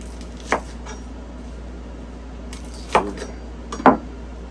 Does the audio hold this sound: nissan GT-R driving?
no